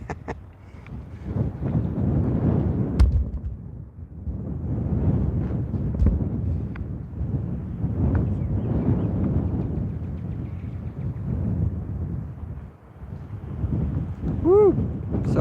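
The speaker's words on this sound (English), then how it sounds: "Sorry about the wind." Gusts of wind buffet an outdoor microphone in a steady low rumble that swells and dips for the whole stretch, with a brief whistle-like tone near the end.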